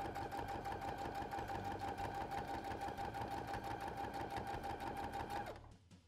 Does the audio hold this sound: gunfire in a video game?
no